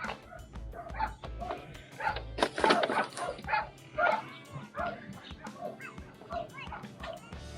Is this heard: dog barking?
yes